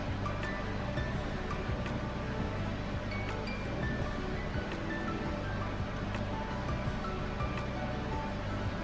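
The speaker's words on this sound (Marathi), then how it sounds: "पाण्याला चांगली उकळी आलेली आहे" Steady rolling bubbling of water at a full boil in a pan, constant and close, with no voices.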